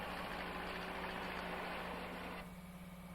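An asphalt paver, a laydown machine made of a tractor and a screed, idles with a steady low engine hum that eases slightly near the end. No voices are heard.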